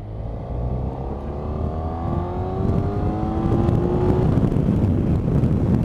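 A Honda Crosstourer VFR 1200X Euro4 motorcycle with an automatic gearbox and a 129 hp engine, accelerating hard with a rising engine tone that climbs steadily under heavy wind rush, loud and close.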